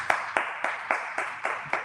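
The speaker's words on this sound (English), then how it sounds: "please give us a round of applause" Applause for speakers at a talk on mass incarceration, heard as about seven evenly spaced, crisp claps in a slow steady rhythm, close and sparse rather than a full crowd.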